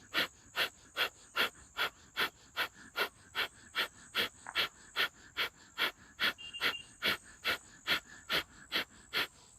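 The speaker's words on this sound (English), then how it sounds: "Continue the breath of fire." Rapid yogic breath of fire, about twenty sharp forceful exhalations through the nose at a fast, steady, even rhythm, close and clear with no talking.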